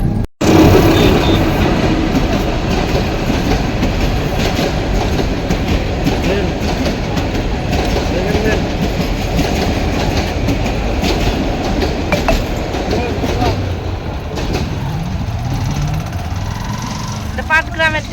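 A Patgram-bound train rolls past nearby, a loud continuous rumble with clickety-clack wheel rhythm and a brief squeal near the end, while people talk over it.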